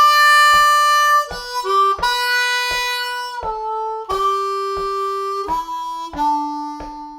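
Harmonica in 2nd position playing a lick from Amazing Grace, a sequence of clear sustained single notes stepping between pitches with short breaks, alone and moderately quiet.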